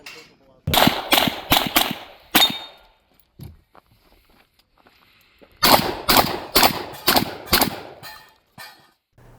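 Shots from an Accuracy X D1 pistol crack at a shooting range in two quick bursts of sharp, loud reports, several fired in rapid succession and separated by a pause, with a brief spoken word between them.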